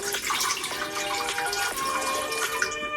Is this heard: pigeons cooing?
no